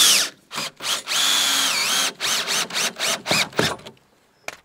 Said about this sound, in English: I'm going to get a couple of 90mm screws in each corner to lock the frame together.